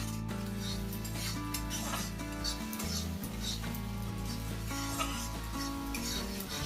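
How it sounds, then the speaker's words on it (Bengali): Mustard paste is stirred into hot oil with poppy seeds in a pan, giving a soft continuous sizzle and scraping under steady background music. "আমি আবার নেড়ে নিচ্ছি।"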